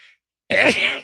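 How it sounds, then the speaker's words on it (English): A single human sneeze, close and fairly loud, a short burst after a brief silence, with no talk around it. "I was going to sneeze there."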